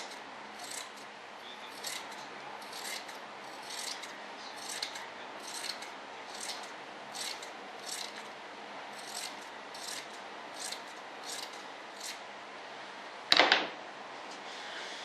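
Scissors trim material during an RC jet model build of an F-105 Thunderchief, a series of soft, evenly spaced snips close by and faint, repeating about every second, ending with a sharper clatter near the end; no talk.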